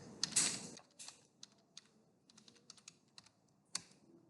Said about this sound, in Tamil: கான்ஃபிகர் டெர்மினல் அப்படின்னு டைப் பண்ணுறேன்.